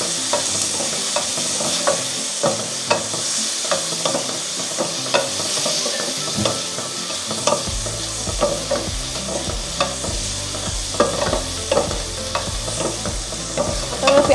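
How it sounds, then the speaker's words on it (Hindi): Onions and tomatoes fry in a pan with continuous loud sizzling and repeated scraping from stirring, steady throughout and with no voices. "इसमें शामिल करेंगे टमाटर। और इसको अच्छे से भून लेंगे"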